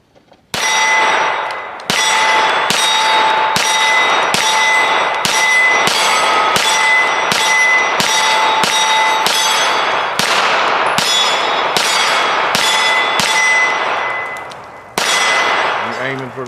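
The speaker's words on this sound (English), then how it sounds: "I'm not gonna talk because I'm ready to shoot." Canik METE SFx Pro pistol fired at steel targets on a shooting range, a steady string of about a dozen loud sharp shots, each followed by a ringing metallic clang from the steel plates, with a brief pause before a final shot.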